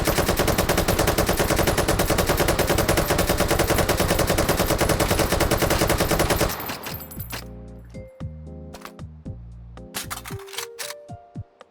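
An RPK machine gun in H3VR fires one long, loud, rapid automatic burst for about six seconds. The gunfire then stops abruptly, leaving scattered metallic clicks and clanks of handling.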